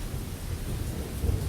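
Steady rain with a low rumble of thunder rolling underneath in the video game Lost Horizon, a dense, continuous wash of noise with no voices.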